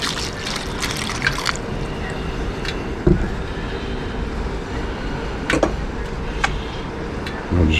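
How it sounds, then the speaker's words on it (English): Hydrochloric acid is poured onto gold BGA chips, a steady close liquid trickle and splash running continuously with a few small clinks and drips on top. "I'm going to put some hydrochloric acid in."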